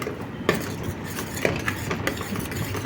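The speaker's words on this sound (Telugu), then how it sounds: "ఇప్పుడు ఒకసారి మిక్స్ చేసుకోవాలి." A spoon scrapes and clinks in a pan as onion paste is stirred with ginger garlic paste, giving soft irregular scrapes with a few sharper metallic taps, close and steady with no talking.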